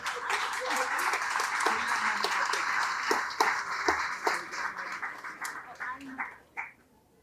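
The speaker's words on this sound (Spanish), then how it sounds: "Un fuerte aplauso también, por favor." Sustained audience applause fills a public civic forum in Kanasín, Yucatán, dense and steady for several seconds before tapering off, with voices mixed in beneath the clapping.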